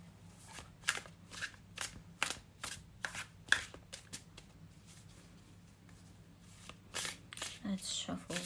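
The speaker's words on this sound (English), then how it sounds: "let's shuffle with intention." Tarot cards being shuffled, with a series of crisp riffling bursts coming one after another at close range, then quieter soft handling toward the end, with no talk over it.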